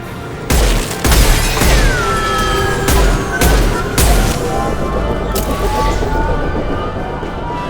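Repeated gunfire and heavy booms from the final boss battle in the video game Mass Effect 2, with sharp shots landing at irregular intervals over a dense, continuous roar of combat noise, tonal sweeps and effects, loud and close throughout.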